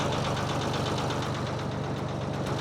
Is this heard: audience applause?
no